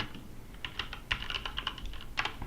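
Typing on a computer keyboard in a quiet room, a quick uneven run of soft key clicks and taps close to the microphone with short pauses between bursts.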